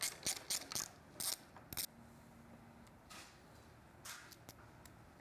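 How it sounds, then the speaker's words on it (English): Ratchet with a 10mm socket turning out the fuel tank bolts on a Triumph Street Twin motorcycle, rapid close clicking in short bursts, then a pause and a few more clicks. "So using a 10mm socket and your 8mm wrench"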